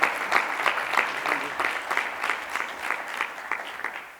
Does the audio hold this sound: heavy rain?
no